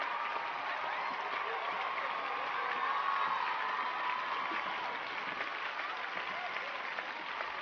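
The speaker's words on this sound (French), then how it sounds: "Applaudissez, je vous prie, Emily Smith d'Angers" An audience applauds and cheers a competition winner, dense continuous clapping mixed with crowd voices and a few whoops, sustained at an even level, sounding slightly muffled and band-limited.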